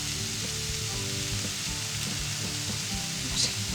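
Soy sauce goes into a pan of eggplant and mushroom mixture, meant for eggplant and mushroom meatballs, which keeps up a steady, close sizzle and frying crackle throughout with no voices.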